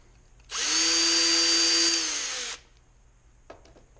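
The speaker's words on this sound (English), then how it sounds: "run the drill in reverse here" A cordless power drill spinning in reverse to push a burr back through a drilled hole in a Corona 3354 weeder, a steady high whine for about two seconds, then a couple of faint clicks.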